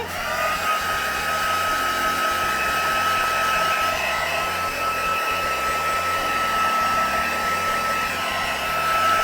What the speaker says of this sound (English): I'm keeping the heat gun moving because I don't want to overheat where I've done that embossing powder